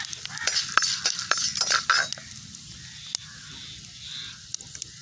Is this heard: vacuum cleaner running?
no